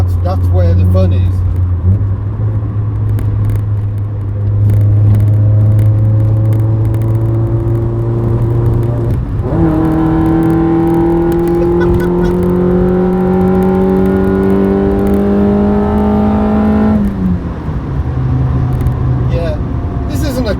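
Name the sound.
car engine revving hard on track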